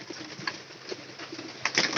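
Pigeons in a home loft give soft, low coos in short repeated bursts, fairly close and moderately loud, with a few brief rustles and a sharper flutter near the end; no one speaks.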